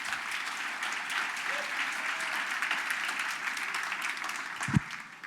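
Steady applause from a church congregation during a Spanish-language sermon, a dense, even patter of clapping hands lasting throughout with no break.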